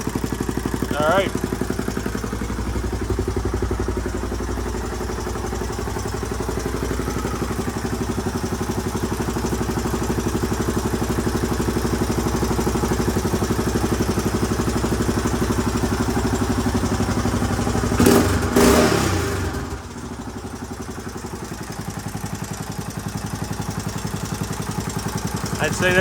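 A 1981 Honda XL500S single-cylinder motorcycle engine idles steadily close by with an even, thumping throb that holds for nearly the whole stretch, with a brief clatter and dip near the end.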